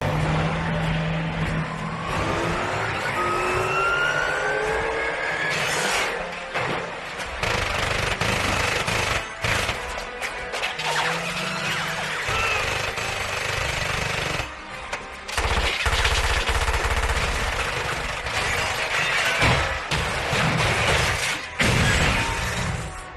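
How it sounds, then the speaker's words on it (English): Film car chase with a van: loud, continuous roar of engines and mechanical clatter with sharp, rapid impact bursts and crash-like hits scattered throughout, dense and close. "This has to be the car chase scene with the van."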